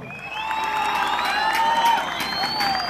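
At a Rancho La Misión couples dance championship, a crowd claps, cheers and whoops for a dancing couple, a loud and continuous roar with shrill shouted voices throughout.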